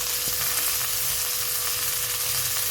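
Pieces of bata fish, rubbed with salt and turmeric, fry in hot oil, giving a continuous close, hissing sizzle with fine crackles at a steady level and no voices.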